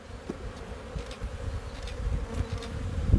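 Honey bees buzz around a 10 frame Langstroth hive outdoors, a dense, steady drone of many insects close by, with individual bees swelling past now and then, and no talking.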